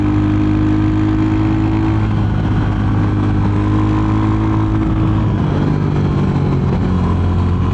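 Royal Enfield Hunter 350 retro roadster motorcycle engine pulling hard while riding, a loud, steady near drone with rising and falling pitch as it accelerates and shifts, no talk over it.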